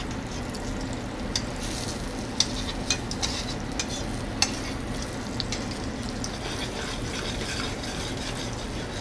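Potatoes seasoned with salt and black pepper frying in a steel pan, a continuous close sizzle with occasional sharp pops and scraping stirs.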